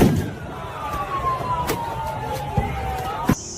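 A faint siren wails over street traffic noise in the United States, with a couple of sharp knocks and a brief voice at the start.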